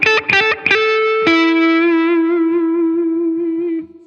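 Electric guitar run through an overdrive pedal set to about 30% drive: a few quick picked notes, then a ringing chord that sustains loudly with a lightly gritty edge and slowly fades, no voices.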